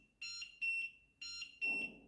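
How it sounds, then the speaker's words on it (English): A large LED digital wall clock with a countdown timer sounds its alarm: four sharp, loud electronic beeps, each about a third of a second long, arriving in two pairs with short gaps between. "And there is the alarm."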